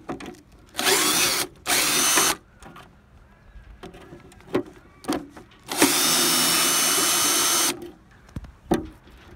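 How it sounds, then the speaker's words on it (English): A power drill whirs in several bursts while removing a Texecom Odyssey 3 alarm bell box, two short ones, then a long steady run, with quiet pauses and small handling noises between. "we got a drill this time around"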